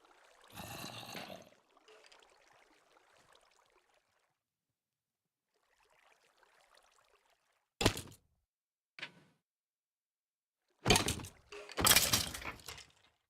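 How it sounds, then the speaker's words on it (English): Minecraft creeper explosion used as a follow alert on a stream: several sharp, loud broadband bursts come in separated hits, the last a longer crackling blast, with quieter gaps between. "we made the follow sound, the creeper explosion"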